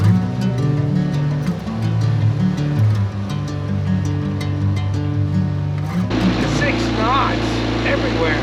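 A dinghy's outboard motor runs steadily on Mill Creek, a low droning hum that holds throughout, with people talking over it.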